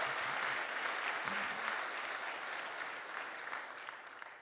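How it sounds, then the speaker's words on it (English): A lecture-hall audience at a Martin Luther King III talk applauds, even continuous clapping at a distance, quiet overall and slowly tapering off toward the end. "give him a round of applause for his international work"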